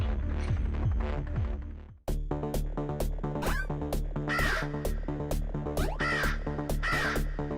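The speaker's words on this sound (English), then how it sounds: "Just a big ass cannon off in the distance, loaded up with griffins and crows that are just firing off non-stop." In the video game Titan Souls, crows fired from a distant cannon caw repeatedly and non-stop in harsh bursts over a loud throbbing, humming game soundtrack.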